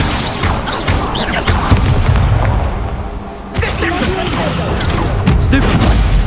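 Hogwarts Legacy spell combat with Incendio fire casts: a dense, loud barrage of booming blasts and crashing impacts, rumbling continuously with a brief dip midway.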